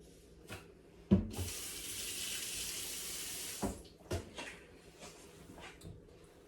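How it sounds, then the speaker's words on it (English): A dish is rinsed under a running kitchen sink tap: the faucet opens with a clunk, water pours steadily for about two seconds and then cuts off, followed by a few knocks and clatters nearby. "we're gonna put this near the sink so I can wash it off"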